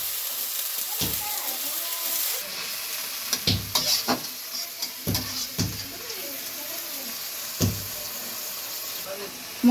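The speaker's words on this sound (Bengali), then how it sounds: "মশলাটা কষানোর জন্য দিয়ে দিচ্ছি পানি পরিমাণ মতো।" Spices for a broiler chicken bhuna cook down with water in a pan, giving a steady soft sizzle broken by several sharp scraping stir strokes and clatters; a voice speaks faintly at times.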